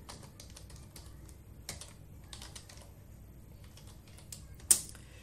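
Fingers typing a search entry on a computer keyboard, a quick run of soft clicky keystrokes in uneven bursts, close and fairly quiet, ending with one sharper, louder key strike.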